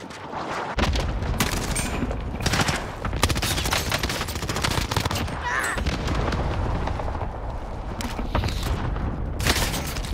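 Sustained automatic gunfire from a Call of Duty: Modern Warfare firefight, dense overlapping bursts and single shots rattling loudly and continuously throughout.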